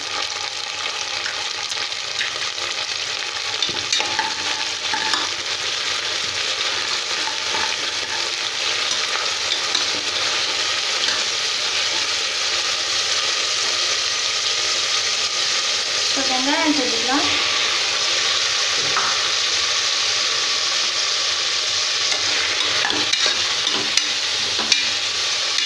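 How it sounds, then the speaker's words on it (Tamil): Onions stirring and sautéing in a pan for mushroom biryani, a steady sizzle running throughout with occasional scrapes of the spoon, close and moderately loud, no talking. "வெங்காயம் நல்லா வதங்கட்டும்."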